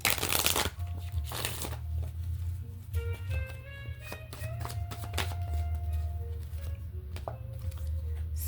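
A deck of tarot cards is shuffled by hand in quick riffles and soft slaps, close and crisp, with faint tonal chimes ringing in the background.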